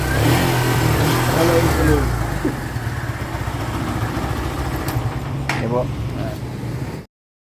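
Kawasaki Barako 3 motorcycle engine running steadily with uneven, jerky revving, loud and close, cutting off abruptly near the end; voices talk over it.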